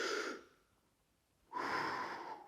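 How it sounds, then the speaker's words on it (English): Steady inhalation through the nose or mouth while lying on the back for a supine hip raise, a soft airy breath swelling in near and clear, then a pause before a second, longer breath in. "Breathing in."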